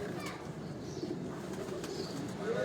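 Several pigeons coo in a low, steady murmur at a pigeon keeper's loft in Dhok Kala Khan, Rawalpindi, with faint chirps and background voices mixed in.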